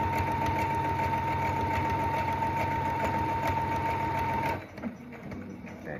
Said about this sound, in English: go ahead and finish sewing the rest of that.